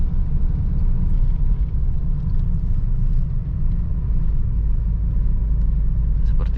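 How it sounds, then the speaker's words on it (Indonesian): A Honda Mobilio's engine roars steadily from inside the cabin on an uphill stop-and-go drive, a loud continuous low rumble that holds throughout without a break. "cuma ada raungan di mesin"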